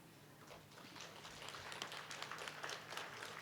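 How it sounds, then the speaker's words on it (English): Audience applause after a poem reading at a literature festival: a soft, distant patter of many hands clapping that builds slightly and holds steady for a few seconds, with no voices over it. "being clapped after every poem"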